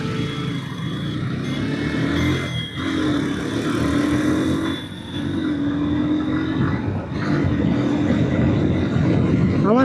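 A motorcycle pulls away from a start in second gear, its engine rising in a steady loud drone with two brief dips where the revs fall before climbing again, ending in a sharp rising whine.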